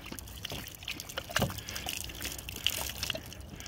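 A Great Dane laps water on a hike while most of it splashes and trickles onto the ground, making faint, close, irregular liquid slurping and dribbling sounds.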